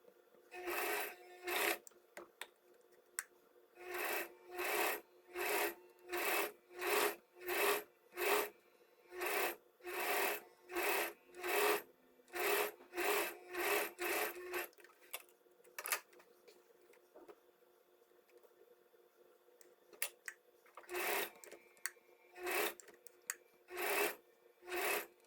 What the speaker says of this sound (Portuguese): agora vamos pra máquina pregar a cianinha aqui em cima